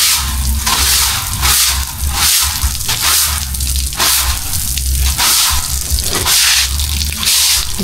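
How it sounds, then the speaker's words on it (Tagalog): A broom sweeps standing water outdoors while cleaning around a small hut, repeated wet swishing strokes in a steady rhythm, close and loud with splashes between strokes. "Yung mga na-stack na tubig, iwalisan mo."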